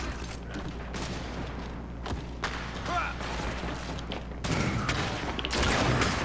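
Gunfire from sniper rifles and other weapons in Gears of War, a busy run of sharp shots and thuds over game noise, with a few louder blasts near the end and a player talking now and then.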